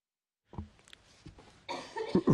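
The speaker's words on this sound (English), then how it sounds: "I'm going to cough." A person in a London housing committee meeting gives a couple of short, muffled coughs, followed by a louder, rougher burst of throat clearing near the end, with no speech.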